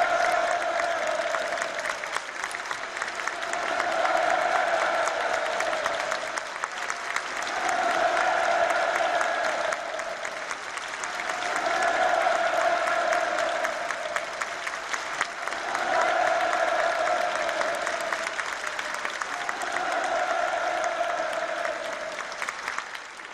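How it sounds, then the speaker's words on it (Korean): Sustained, loud applause and cheering from a large theatre audience at a Chinese ballet troupe's performance, swelling and easing in waves throughout without pause. "폭풍 같은 만세 환호성을 터치올렸습니다"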